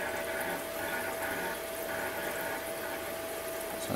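A DIY reverse osmosis machine flushes its membrane, the water pump running with a steady rushing hiss and a faint constant whine throughout.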